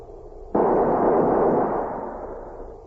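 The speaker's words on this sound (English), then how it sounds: "Floyd's squad stood straight and tall, ready to honor him with a volley from their rifles." A single volley of rifle fire by a squad at a military funeral in a Western drama, one sharp simultaneous blast that booms loudly and then fades with a long echoing tail, no voices.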